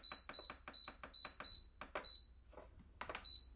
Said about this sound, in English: it has beeped to tell me that it is ready